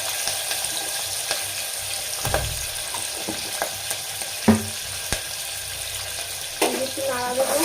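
Vegetables sizzling in ghee in a pan after a cumin tempering, an even frying hiss with scattered spoon knocks and a brief clatter near the end, nobody talking.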